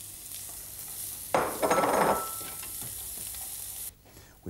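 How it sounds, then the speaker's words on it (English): Sliced, peeled onion sautéing in a heated frying pan, a steady sizzle that swells sharply as the slices are stirred and tossed, then settles back, close and loud with no talk. "Taking a sliced and peeled onion, we place it in a heated frying pan and sauté"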